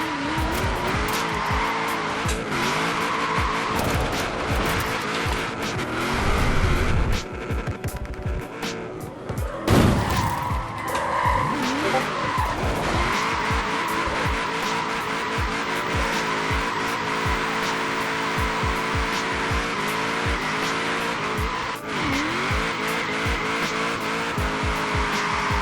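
Engine revving and tires squealing from a car drifting with repeated clutch kicks in the racing game Forza Horizon 4, a loud continuous roar with rhythmic rev surges and skids throughout, no talk.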